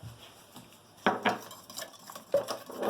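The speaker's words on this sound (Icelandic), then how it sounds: "Og þá þurfum við aftur, enn og aftur að hræra." Waffle batter being stirred in a bowl, a utensil clinking and scraping against the sides in a few sharp knocks with softer swishing between, close and fairly quiet, with no talking.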